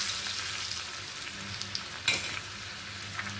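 Mustard and fenugreek seeds frying in residual heat in a pan after the stove is switched off, a soft, faint crackling sizzle with a few small pops and one sharper crackle midway.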